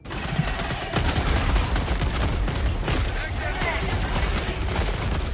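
Machine gun fire in the video game Helldivers 2 crackles in rapid, dense bursts of close, loud shots that continue over a steady rumbling background.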